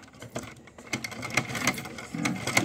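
A sewing machine stitches a gents' kurta, running in short uneven bursts of close, fairly quiet rapid clicking with brief pauses between runs.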